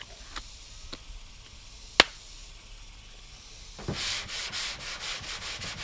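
Primer is block-sanded on the body of a 1977 Malibu Classic. Sparse taps and one sharp knock come first, then rapid, close, rhythmic rasping strokes of the sanding block with no talk.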